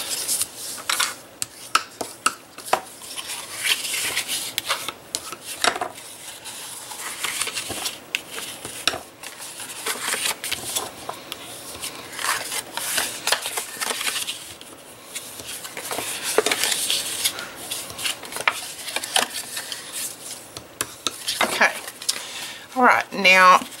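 Repeated rubbing and scraping strokes as folded paper card score lines are burnished, a steady textured friction running throughout at close range.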